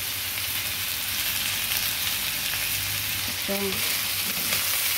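Chicken wings sizzle steadily in a hot pan of oil for Filipino chicken adobo, a loud continuous frying hiss throughout, with a brief voice near the end.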